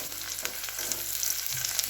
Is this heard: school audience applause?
no